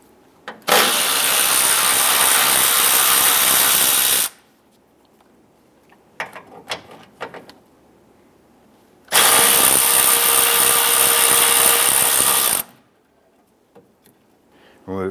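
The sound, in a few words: power tool with 10mm socket removing hood latch bolts, Dodge Ram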